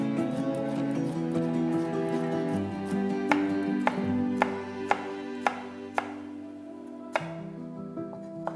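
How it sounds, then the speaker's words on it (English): A knife finely chopping about five cloves of garlic on a board, a steady run of sharp, evenly spaced taps close up over a soft background hum, with no talking. "Finely chop the garlic."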